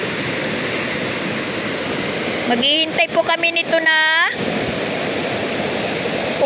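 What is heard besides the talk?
swollen stream rushing after rain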